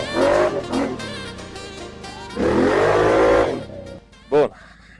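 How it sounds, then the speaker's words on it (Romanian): An ATV fitted with a loud aftermarket exhaust that makes it vibrate heavily revs hard in bursts and drives off on a new trail, the engine close and loud, rising and falling between throttle blips, with speech mixed in. "Problema e că cu evacuarea asta vibrează foarte tare ATV-ul"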